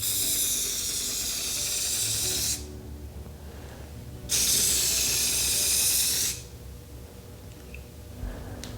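Plasti Dip aerosol paint is sprayed onto an RC truck body, two long loud close hissing bursts with a quieter gap between them.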